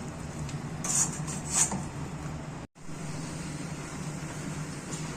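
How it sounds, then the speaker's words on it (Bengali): Chicken curry is stirred in a pot after a spice paste is poured in, with a couple of bright metallic scrapes and clinks of a spoon over a steady background hum, a brief gap, then continued low rumble. "আবারও নাড়িয়ে নিচ্ছি।"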